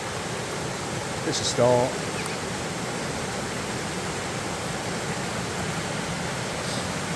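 A river in Talybont, Wales flows with a steady, loud broadband rush that stays constant throughout, while someone speaks briefly over it.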